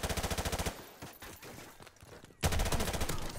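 M4 rifle fire in Call of Duty 4: Modern Warfare Remastered multiplayer, loud rapid automatic bursts in a fast steady rhythm, one burst at the start and another after a quieter stretch of distant game noise.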